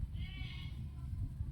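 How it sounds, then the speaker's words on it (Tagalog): A goat bleats nearby outdoors on a warm afternoon where a goat shelter is being built, a wavering cry rising over steady low rumble and background noise. "May kambing ako naririnig din dun guys."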